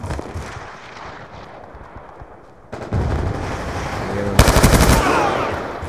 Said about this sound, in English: Stop shooting, for God's sake.